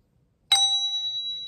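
A gong is struck once, giving a sharp metallic onset that settles into a long, clear ringing tone that sustains steadily without fading much, with no other sounds around it.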